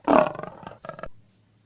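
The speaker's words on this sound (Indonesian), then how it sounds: "Betul, suara singa." A lion roar, one loud close bellow followed by a shorter second grunting burst, then silence.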